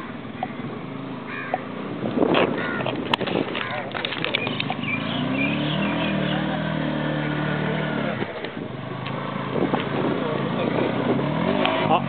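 An off-road vehicle engine revs and drones on a rough track near Alambarai Fort. The engine stays moderately loud beneath people talking and shouting throughout.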